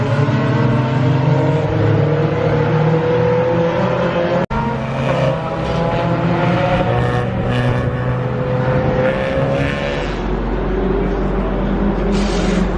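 Mazda MX-5 race cars circulate on track at Brands Hatch, engines droning and revving loudly and close for the whole stretch, with a brief dropout partway through and a deep rumble near the end.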